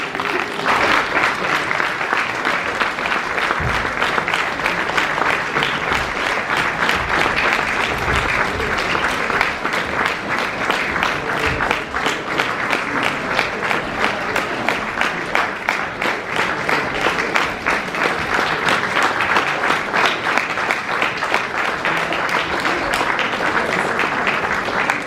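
Sustained audience applause at a charity concert, dense and even clapping from a large crowd that continues without pause at steady loudness.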